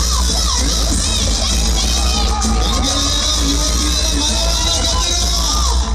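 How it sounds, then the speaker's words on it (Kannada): A large crowd at a stage event during a local festival cheers and whoops loudly for an arriving guest. Children's shouts and a thick babble of voices fill the sound continuously and up close. "So ladies and gentlemen, give a big round of applause to"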